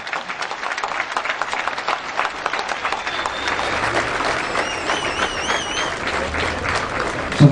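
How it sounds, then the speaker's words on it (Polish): Audience applause at a football team's season presentation for Arka Gdynia, steady dense clapping throughout from a crowd, with a brief louder burst at the end. "Duże brawa!"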